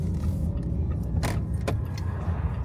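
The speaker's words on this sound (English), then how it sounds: "These cars are relentless over here." Busy road traffic rushes past a car waiting to pull out, a constant low rumble broken by two quick whooshes of nearby cars passing.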